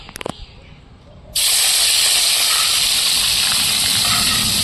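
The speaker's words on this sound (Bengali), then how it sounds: "এবার মাছগুলো ভেজে নেব।" Prawns hit hot oil with a sudden loud burst of hissing sizzle that fills the rest of the moment steadily, after a few brief clinks and a quiet pause.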